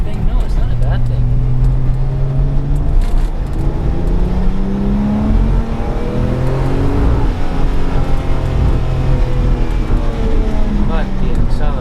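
Porsche 911 996 Turbo S accelerating hard and shifting gear, recorded from inside: a loud steady engine drone rising in pitch through the gears, with someone talking over it throughout.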